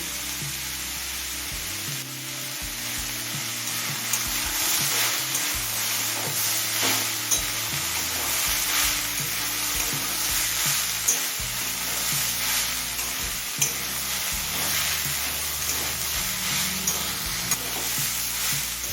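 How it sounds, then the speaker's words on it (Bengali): Snake gourd with egg, onion and turmeric fries over a medium flame, a steady close sizzle running throughout with occasional light clicks of a utensil against the pan and no talking. "এবার চিচিড়িটা মজে আসা পর্যন্ত মিডিয়াম ফ্লেমে রান্না করে নেব"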